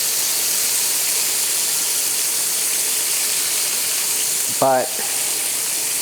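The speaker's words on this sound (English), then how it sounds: "Let me flip the bacon here." Bacon sizzles in a frying pan with a steady, dense hiss and crackle close by. Someone briefly speaks over it near the end.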